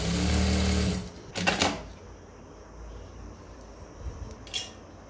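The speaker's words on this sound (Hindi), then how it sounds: "इसी तरह से दूसरी तरफ हम सिलाई लगाएंगे।" A sewing machine stitches a cotton bra, a close rapid mechanical chatter for about a second, then quieter clacks and short bursts of handling noise.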